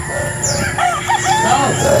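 Roosters and chickens on a large farm where many birds are tethered: a rooster crows loudly and nearby over a continuous bed of clucking and other fowl calls.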